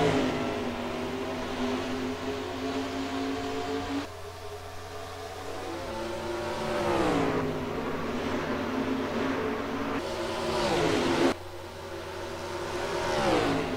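A field of NASCAR-style stock cars in a racing video game roars back up to speed at a restart at Las Vegas, engine tones sweeping up and down as cars shift and pass, steady and dense throughout.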